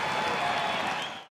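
A sell-out stadium crowd at an AFL match in Darwin, Adelaide Crows against Melbourne Demons, roars in a loud, sustained wash of cheering and applause that cuts off abruptly.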